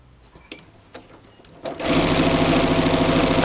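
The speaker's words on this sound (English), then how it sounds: "And sew another seam here." A sewing machine stitches a seam in lightweight sling fabric, a few light handling clicks and then a sudden, loud, steady rapid whirring that runs on without pause.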